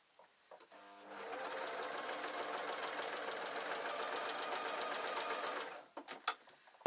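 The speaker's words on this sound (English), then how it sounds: "I'll just do one more just to do this sewing together" A sewing machine runs steadily for about five seconds, stitching quilt squares together, its fast rhythmic needle clatter close and clear, starting and stopping with faint handling noises around it.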